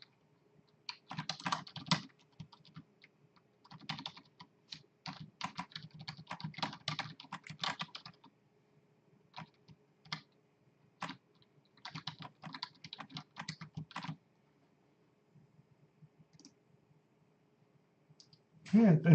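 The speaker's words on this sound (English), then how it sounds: "If I can type." Bursts of fast clattering keystrokes on a computer keyboard, close and dry, separated by short pauses, with speech present at times.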